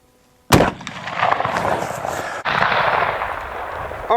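Two loud, sharp gunshots from a Winchester rifle at an outdoor shooting range, about two seconds apart, each followed by a long, rolling echo; no one speaks.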